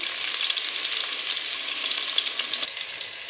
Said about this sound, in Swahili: Kwenye pishi letu la wali wa choroko wa nazi, tunakaanga vitunguu